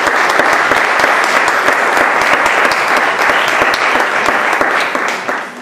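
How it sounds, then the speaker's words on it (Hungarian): A large audience applauds steadily and loudly at a talk on Hungarian folk medicine, dense clapping sustained throughout before tapering slightly at the end. "kérek egy nagy tapsot"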